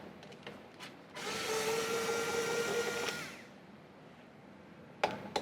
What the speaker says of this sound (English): get out my super duper screwdriver